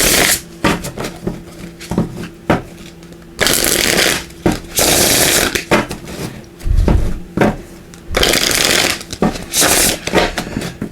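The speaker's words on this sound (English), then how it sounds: "I'm just going to give these a shuffle." Runic Tarot cards being shuffled by hand in repeated riffling bursts, close and fairly loud, with short pauses and soft knocks between passes.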